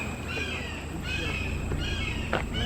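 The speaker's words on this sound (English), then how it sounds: "Loud hawk." A hawk's loud, harsh call rings out repeatedly over steady outdoor background noise on a trail, with a few drawn-out cries spaced across the moment.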